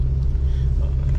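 Car engine labouring in first gear on a steep mountain road toward Muktinath in Nepal's Mustang valley, a steady loud low rumble heard close from inside the vehicle, with no talking.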